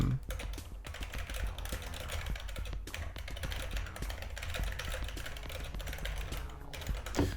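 Steady typing on a computer keyboard, a fast continuous patter of key clicks at close range, fairly quiet and without talk.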